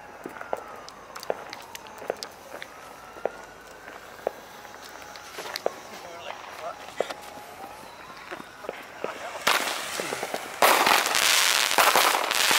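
Fireworks set off outdoors near a store stocked with mortars and small consumer fireworks: scattered sharp pops and crackles, with whistling streaks, building into a loud, dense burst of crackling near the end.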